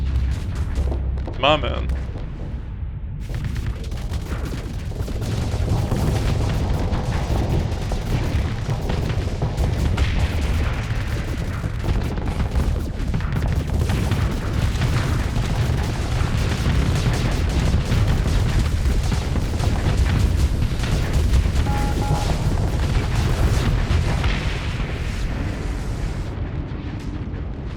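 Ship weapons firing and explosions in the space combat game Starsector, heard as a dense, continuous barrage of booms and blasts running through the whole stretch, with someone speaking briefly over the din.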